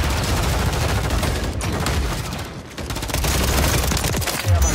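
Sustained gunfire in a Call of Duty match, rapid overlapping bursts of automatic fire that stay loud and dense throughout with a brief lull midway.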